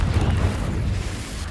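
A Confringo explosive spell cast in a video game, a short deep rumbling blast that fills the moment and then fades slightly.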